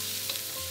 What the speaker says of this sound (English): I'm stir frying these now, and I've already got a really nice color